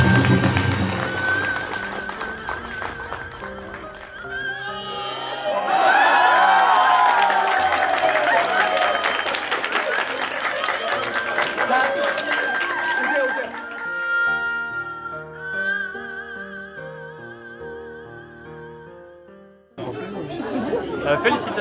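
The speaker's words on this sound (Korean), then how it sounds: "큰 박수 한번 부탁드리겠습니다" Guests at a traditional Korean wedding for a French bride and Korean groom break into applause and cheering, a swell of clapping and crowd chatter that rises, holds loudly, then tapers off amid music and talk.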